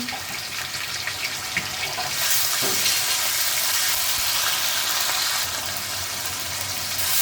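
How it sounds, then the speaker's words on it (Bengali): Chopped onion frying with ginger garlic paste and cumin in a pan for a Bengali fish curry, a continuous hiss of sizzling oil that swells louder partway through and stays steady, with no talking. "পেঁয়াজ কুচি, যে পেঁয়াজটা একটু লাল করে ভেজে নিচ্ছি, দিয়ে দিলাম আদা রসুন বাটা"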